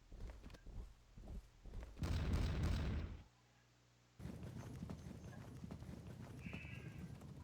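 Cavalry horses gallop in the Pike and Shot video game, set at the 1643 battle of Adwalton Moor: a dense, steady clatter of hooves with neighs, swelling loudly, breaking off briefly, then resuming under distant battle noise.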